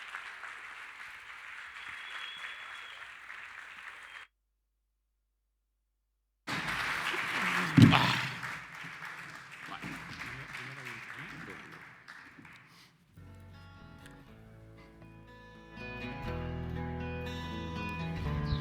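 Live podcast audience applauding at a Catalan festival event, steady clapping that cuts to silence, resumes with a sharp knock, then gives way to music.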